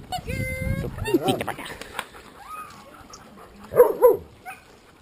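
Alaskan husky sled dogs yip and bark in short bursts with some whining, while a person talks nearby.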